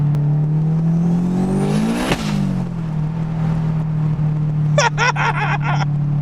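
Turbocharged 2003 Honda S2000 AP1 making about 480 wheel horsepower, engine droning steadily close up, rising sharply in pitch under boost before a sudden drop, then settling into a steady hum with a brief rattling flutter near the end.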